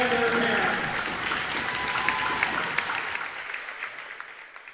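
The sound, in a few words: audience applause for senior volleyball players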